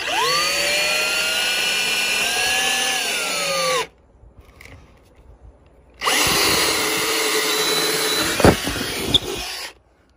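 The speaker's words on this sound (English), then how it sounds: "So I'll go grab a drill bit and drill that." Power drill boring a hole through an onyx stone countertop, a loud steady whine running for about four seconds, a pause, then a second long drilling burst with a gritty grinding edge before stopping.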